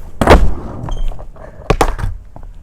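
Skateboard landing a bomb drop into a ramp: a hard wheeled slam and rolling rumble, then a second sharp clatter and thud a moment later, close and loud with no speech.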